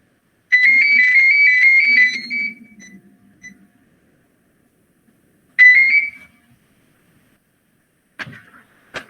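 A phone rings in a lecture setting: two electronic trilling bursts, a long one followed by a shorter one after a pause, loud and alone, then a brief clatter near the end.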